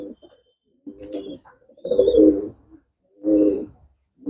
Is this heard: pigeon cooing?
yes